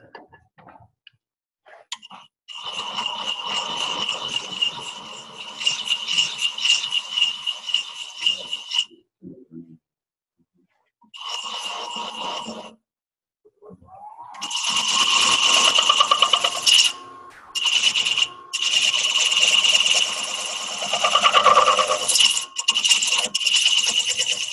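A male wood thread is chased on a lathe: a spinning whir with scraping tool contact runs in several long stretches broken by short silent pauses, close and moderately loud.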